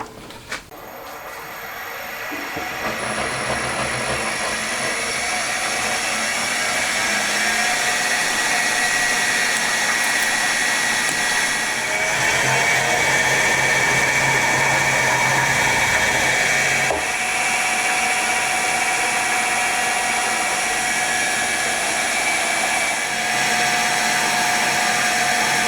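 A lathe center-drilling a cap for a Honda Monkey engine: a steady, loud machine whine with high tonal hum that holds almost unbroken for the whole stretch, no voices.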